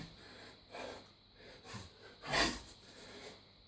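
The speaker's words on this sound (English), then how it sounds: "When I do it, I breathe out downwards and up again" Forceful breaths exhaled through the nose and mouth during squatting exercise. The breaths come as several rhythmic huffs, the loudest near the end, close and fairly quiet.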